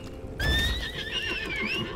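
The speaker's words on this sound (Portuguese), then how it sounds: "Pode ir, pegar o cavalo." A horse from the video game Lost Ark gives one loud, close neigh that rises and wavers for about a second and a half before trailing off, with no talk over it.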